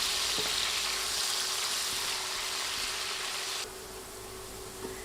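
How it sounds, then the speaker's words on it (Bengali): Potatoes fry in hot oil over medium heat, giving a steady, close hiss and sizzle that softens slightly partway through as they are stirred. "এবার নেড়ে চেড়ে কিছুক্ষণ আলু তেলে ভেজে নিব।"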